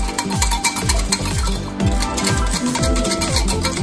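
Dalgona coffee mixture being whisked with hot water, quick rhythmic scraping strokes repeating steadily at close range, fairly loud with no voices.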